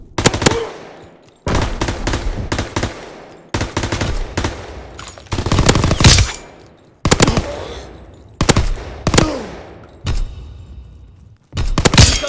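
Repeated bursts of heavy gunfire in a Call of Duty battle, an artillery battery firing in loud clustered volleys separated by short pauses, each burst sharp and rattling with a booming low end.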